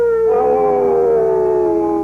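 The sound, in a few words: howling dog-like creature sound effect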